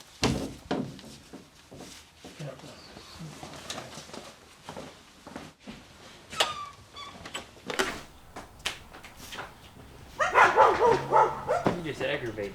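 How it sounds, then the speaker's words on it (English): Dogs bark outdoors in scattered bursts, with a louder cluster of yaps and barks toward the end, heard over background noise and some talking. "These are strange dogs."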